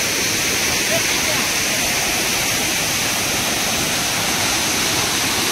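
Savdav waterfall roars nearby, a constant, loud rush of falling water that fills the whole stretch evenly, with no pauses and no other sound rising above it.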